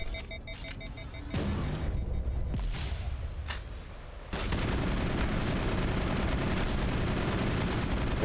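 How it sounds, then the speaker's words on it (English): Sniper rifle fire in the video game Mass Effect: a few sharp, loud shots over a dense, noisy combat backdrop that swells partway through and stays busy. "let's try the sniper rifle and see how that does"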